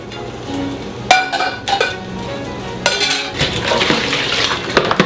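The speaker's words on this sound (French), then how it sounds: "Les pommes de terre blanchies, je les égoutte." Blanched potatoes being drained in a kitchen: pouring water splashes alongside several sharp metallic clanks and clinks of a pot and utensils, close and fairly loud, with no talking.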